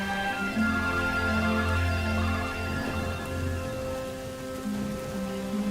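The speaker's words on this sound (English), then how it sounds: "You cannot go out in that rain." Corrosive rain pours down in the video game Lego Star Wars: The Force Awakens, a steady dense patter with low tonal game music droning beneath it, continuous and close.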